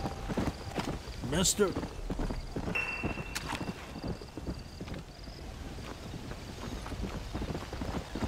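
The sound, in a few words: horse hooves in video game Red Dead Redemption Undead Nightmare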